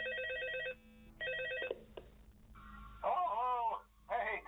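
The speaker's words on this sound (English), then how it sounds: "Let's take a listen to the phone call." A telephone rings for an incoming call in the FNAF video game, repeating its electronic trill in bursts with gaps between, mixed with other synthetic game tones.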